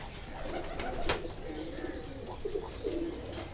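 Soft Kale chapdar pigeon coos repeat a few times at low volume, with faint chirps and a sharp tap in the background.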